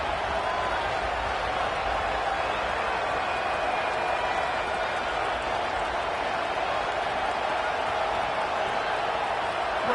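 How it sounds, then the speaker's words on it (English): Dense, steady roar of a college football stadium crowd, loud and continuous throughout with no letup, a broad wash of cheering voices and noise. "This crowd ready to make its presence known."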